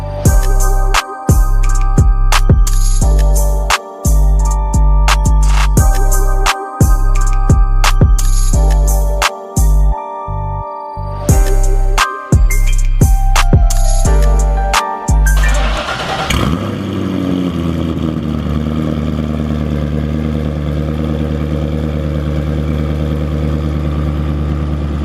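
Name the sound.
straight-piped widebody Chevrolet Corvette C6 engine running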